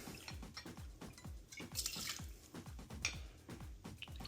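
Gin pours into a metal cocktail shaker in quick gurgling glugs, a faint, close liquid stream with a rhythmic bubbling pulse and small clinks of the shaker.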